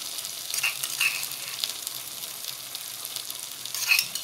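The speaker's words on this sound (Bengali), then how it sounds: "এখন আমি দিয়ে দিচ্ছি সিদ্ধ করা মাংস, থেতো করে নিয়েছি" Boiled, mashed meat fries with spices in oil, a close, lively sizzle with bursts of crackle as it is stirred, no talking.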